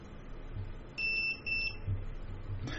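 A continuity tester gives a steady electronic beep for about half a second, pauses briefly, then beeps again during wire testing, clear over a quiet background.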